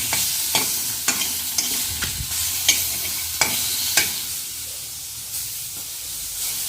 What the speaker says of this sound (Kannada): ಟೊಮೊಟೊ ಇದು ಸ್ವಲ್ಪ ಫ್ರೈ ಆಗಬೇಕು.